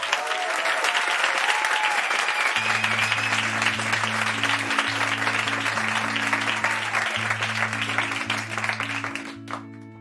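A studio audience at a karaoke TV show gives loud, sustained applause for about ten seconds, and a song's music comes in underneath and carries on as the clapping slowly tapers.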